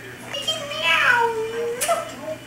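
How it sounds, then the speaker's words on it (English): A cat gives a drawn-out, rising and falling meow, followed by a brief higher squeak, heard close and clear with no talk over it. "Kitty, meow."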